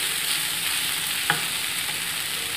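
Garlic and other filling ingredients frying in a pan, a steady close sizzle with one short stirring scrape partway through.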